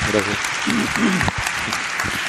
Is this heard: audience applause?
yes